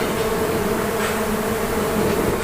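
Stingless bee swarms buzz loudly and continuously while their hives are handled at a meliponary in a housing condominium, a dense steady drone with no voices.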